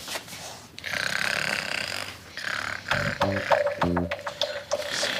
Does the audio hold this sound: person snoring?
yes